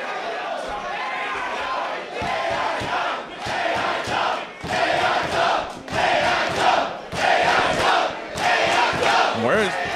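A wrestling crowd at an Absolute Intense Wrestling match roars and chants in surging waves, loud and continuous with rhythmic rises and dips throughout.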